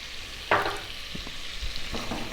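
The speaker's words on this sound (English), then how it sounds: "We're going to cook this for about 4 to 5 minutes, stirring all the time" Butter and plain flour roux cooking over low heat in a pan, a quiet, steady sizzle with a sharp scrape at the start and a few soft stirring knocks after; no talking.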